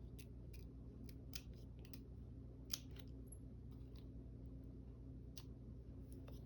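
Scissors snipping paper for a collage page, soft scattered clicks and short cuts at a quiet level over a steady low hum.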